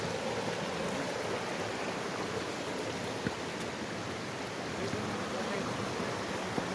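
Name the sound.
small river stream flowing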